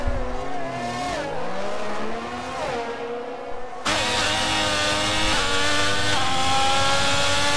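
A race car in a French-commented online racing league game, tyres squealing and engine revving as the driver loses control; the engine note swoops and wavers, then jumps to a loud, sustained high-revving drone.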